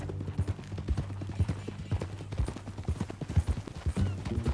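Rhythmic clip-clop of horse hooves trotting steadily in the video game Red Dead Redemption 2, with a low hum and faint background noise underneath.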